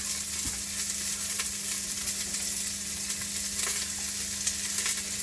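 Onions frying in oil in a pan aboard a narrowboat: a steady, even sizzle and crackle that holds throughout, close and fairly loud, with a faint low hum beneath and no talking.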